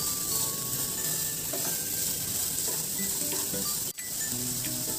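Breakfast ingredients sauté in a pan with a dense, constant sizzling hiss at close range, with faint stirring clicks mixed in and no voices.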